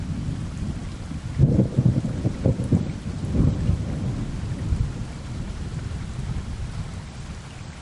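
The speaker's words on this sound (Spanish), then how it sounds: "Relámpago." A thunderstorm with steady rain on surfaces and a close, heavy thunder crack that rolls into several seconds of deep rumbling before fading back under the constant downpour and light wind.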